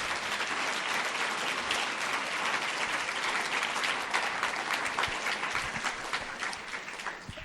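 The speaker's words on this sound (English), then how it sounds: "let's give our panel a great round of applause for their participation" A crowd claps steadily and loudly, a dense, sustained round of applause.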